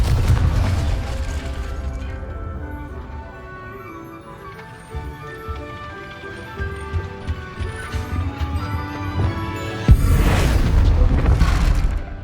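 A Confringo explosion spell goes off in the Hogwarts Legacy video game, with mechanical, clanking game sounds leading up to a sudden loud blast near the end and a burst of noisy rumble afterward, without speech.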